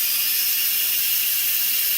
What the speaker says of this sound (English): the amount of time that it takes for the quick release to happen actually is determined by how much steam has built up inside